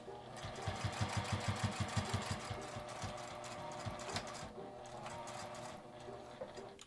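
A sewing machine stitches a scrap-fabric coin purse, its needle chattering in a quick, even burst of stitches near the start, then running on more smoothly with steady mechanical whirring up close.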